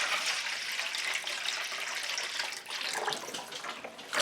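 Water pours from a jug into a big dish pan, a continuous close hissing splash that wavers slightly as the flow changes, heard on its own.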